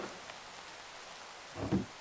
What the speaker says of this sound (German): Ich glaube, weil es regnet, oder?